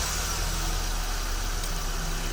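A Honda HR-V engine idles steadily after a remote start, a low continuous hum with faint mechanical whine, heard close and alone with no talk.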